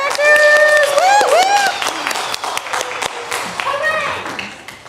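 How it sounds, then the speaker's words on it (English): A Vacation Bible School audience claps and cheers for the actors, with loud whoops and excited high voices over the applause, which gradually thins out. "Give them a round of applause. Thank you, actors!"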